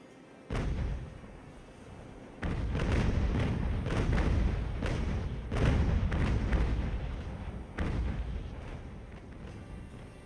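Cannon fire in Ultimate Admiral Age of Sail, a naval battle with a Spanish galleon and fire ships, several deep booming broadsides rolling one after another, loud and close with a sustained rumble between volleys.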